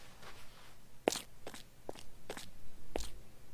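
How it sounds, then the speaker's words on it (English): Footsteps crunch across rocky terrain in a CopperCube 6 game, five or six separate steps at an uneven, unhurried pace, close and fairly quiet over a low background hum. "Nice bit of rocky walking sounds."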